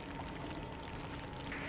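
Water pouring in the game Oxygen Not Included, a steady rushing wash that runs unbroken and fairly quiet for the whole moment, with no voices over it.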